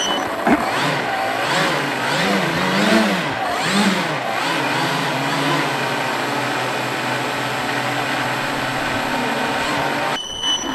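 A model aircraft engine at an air show, revving up and down several times with wavering pitch before settling into a steady, loud, high-pitched drone that holds close to the microphone.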